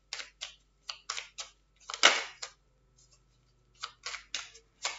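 Playing cards shuffled by hand during a card-reading session, heard as several short crisp riffling bursts in irregular succession, fairly close and alone with no talking.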